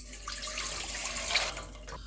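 Water pours steadily into a pan for halwa syrup, a soft continuous splashing rush that swells slightly toward the end, heard alone at moderate level.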